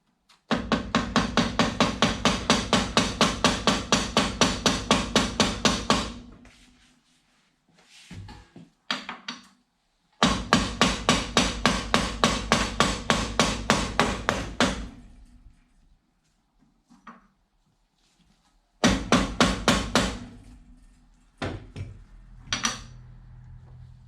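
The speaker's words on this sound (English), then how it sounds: "we put the new bearing in using that advanced engineering technique of twatting it with a socket and a hammer" Rapid metallic hammer blows on a socket, driving a new bearing into a Matchless G3L Burman CP gearbox, ring out in fast, even bursts of several seconds each, close and loud, with pauses between sets and a few isolated strikes.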